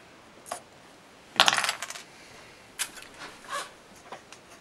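Cutters snip off excess servo header pins during soldering, giving a few sharp, brief metallic clicks and ticks spaced apart, close by against a quiet room.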